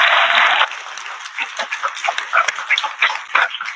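At a Twelfth Night bardic competition, an audience gives a short, loud burst of clapping that quickly breaks into scattered claps, whoops and voices.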